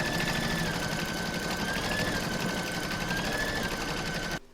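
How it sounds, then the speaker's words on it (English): An embroidery machine stitches a round in green thread, giving a steady, fast mechanical chatter with a thin whine. It runs evenly at moderate volume and then stops abruptly near the end. "So I've put some green into my machine, and I'm now going to stitch round number 10."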